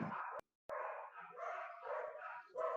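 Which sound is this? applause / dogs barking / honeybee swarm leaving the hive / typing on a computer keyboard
dogs barking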